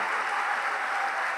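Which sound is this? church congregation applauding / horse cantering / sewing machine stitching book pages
church congregation applauding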